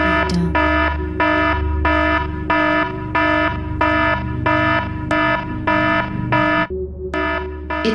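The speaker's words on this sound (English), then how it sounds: "It seems you have an alarm on the lower level." A loud electronic alarm sounds on a lower level, blaring in a steady run of about a dozen evenly spaced pulsing tones, close and alone.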